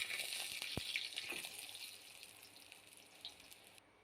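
Aloo paratha frying in mustard oil in a pan, a steady hiss and sizzle with a few faint clicks, fairly quiet and continuous.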